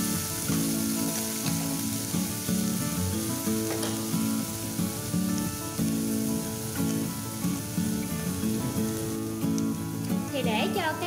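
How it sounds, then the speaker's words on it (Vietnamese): Shallots, onion and garlic fry in hot oil in a home kitchen, giving a loud, continuous sizzle that runs steadily throughout with occasional stirring crackles. "mình sẽ cho một nửa phần đầu hành, một nửa hành tím và một nửa tỏi để mà mình phi thơm lên"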